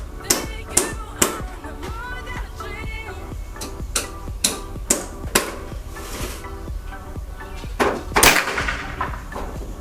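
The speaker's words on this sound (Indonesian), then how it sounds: "Tembakan ke dua." A Predator Tactical CNC PCP air rifle lets off one sharp, close pop among a series of crisp, regular clicks, while someone talks over much of the sound.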